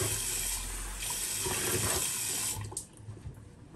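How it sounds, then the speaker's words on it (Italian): Fresh tap water runs into a sink while a razor is rinsed during a citrus-scented wet shave. The close, steady stream splashes for several seconds, then cuts off, leaving a few faint drips and clinks. "Acqua fresca."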